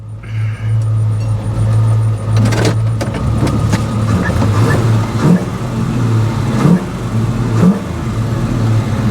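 A 1970 Chevrolet El Camino's engine rumbles loud and close on a test drive, with a low steady drone that surges and eases through several accelerations and gear changes.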